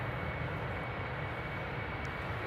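Steady, loud roar of an airliner taking off at Amsterdam Airport, a continuous broadband engine rumble with no breaks, heard alone throughout.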